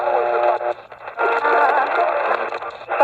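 A radio tuned slightly off a CBC French-language medium wave station, giving a muffled, band-limited voice mixed with hiss and warbling interference.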